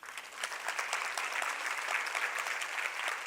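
Audience applause at a women's leadership keynote event, a dense steady clapping from a large crowd indoors, loud and sustained throughout without talking.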